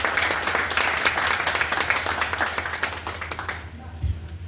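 Audience at an academic year opening ceremony of a university institute claps briefly, dense applause fading out over a few seconds.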